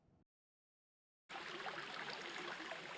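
Big Island Creek flows in a steady, loud broadband rush that starts abruptly after about a second of silence and continues unbroken to the end, with a brief faint burst at the very start.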